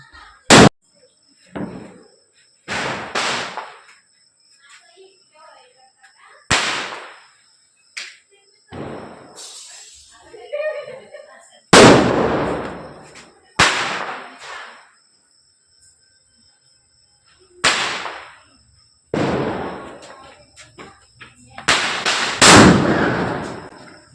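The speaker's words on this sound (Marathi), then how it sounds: "खाली फटाके फोडत आहे" Firecrackers burst one after another in sharp, loud bangs with short gaps, some close together, a few people's voices briefly in between.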